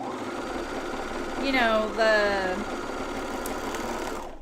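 A coverstitch sewing machine hemming a pajama top runs with a steady mechanical whir, while a person speaks briefly over it.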